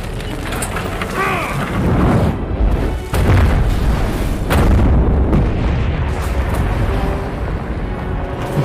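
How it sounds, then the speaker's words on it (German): Heavy, booming explosions roll and rumble loudly in the video game Middle-earth: Shadow of Mordor, with several deep blasts and debris noise over a few seconds. "Dass sich die Explosion nach oben fortpflanzt."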